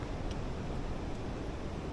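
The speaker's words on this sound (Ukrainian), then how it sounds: "Дуже дуже вітряно, але ну, по-другому не можу." Strong wind buffets the microphone outdoors on open ground in a mined area, a steady, loud low roar of gusts with no speech, continuous for the whole stretch.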